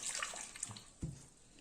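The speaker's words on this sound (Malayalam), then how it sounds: "വെള്ളം ഒഴിച്ച് വേവിക്കാൻ വെക്കാം അല്ലേ?" Water pours briefly into a cooking pot while shallot sambar is made in a Kerala kitchen, a faint, short splashing and trickling with no talk.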